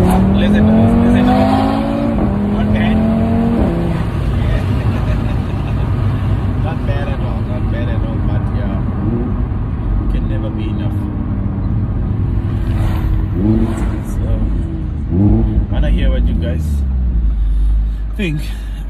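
Audi RS3 8V five-cylinder exhaust revving loudly and steadily throughout, with rising pitch sweeps early on and a continuous engine roar, while someone talks beneath it.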